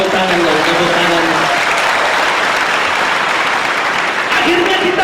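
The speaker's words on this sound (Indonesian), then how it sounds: "tepuk tangan dong saudara, tepuk tangan dong, tepuk tangan" A church congregation applauds during a sermon, loud dense clapping from many hands that fills the room, with a voice speaking at the start and end.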